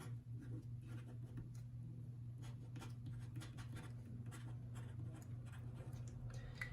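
A Pilot Metropolitan fountain pen writes on paper, its nib giving soft, close scratching strokes in short bursts over a low steady background hum.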